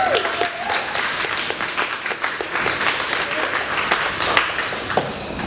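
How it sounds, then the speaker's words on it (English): Enthusiastic audience applause at a live comedy show, a dense, continuous wash of clapping with some cheering and voices under it. "let's give a huge round of applause for the one and only Jessica."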